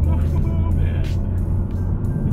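A 2020 Honda Civic Type R engine hums as a low, smooth, steady drone inside the moving car, with road noise and people talking over it.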